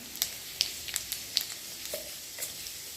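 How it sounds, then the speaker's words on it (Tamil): Dried red chillies and cumin sizzle softly in hot oil, faint crackling pops scattered at an irregular pace over a low hiss. "எண்ணெய் ஊற்றிக்கலாம் ரெண்டு வரமிளகா ஜீரகம் கொஞ்சமாக போட்டுக்கலாம்"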